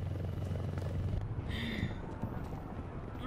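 A helicopter in the fighting game Mortal Kombat X, a dense low rotor rumble that stays loud and close, with a brief higher whine partway through.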